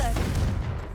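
A Confringo spell blast in Hogwarts Legacy: a single loud, booming explosive burst that decays over about a second.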